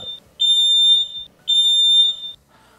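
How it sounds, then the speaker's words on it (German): A devolo Home Control smoke detector sounds its alarm, two loud, piercing high-pitched beeping bursts, each roughly a second long, with short silent gaps between them. "er warnt euch dann mit einem optischen und einem akustischen Signal."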